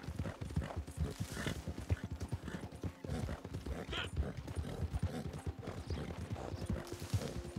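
Horse hooves clip-clopping steadily through the whole stretch in the Red Dead Online video game, a busy rhythmic patter of close footfalls with game ambience and occasional voices mixed in.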